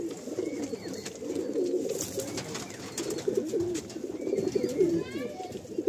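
Tournament-playing Madrasi pigeons coo in soft, repeated rolling calls, close by and continuous, with a faint chirp and a voice talking in the background.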